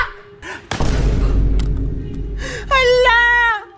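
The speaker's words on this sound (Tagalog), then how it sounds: "Pumutok yung lobo ko!" A loud sudden burst, like a balloon popping after being struck hard, lands near the start of a playful game and leaves a reverberant wash; an excited voice cries out afterward.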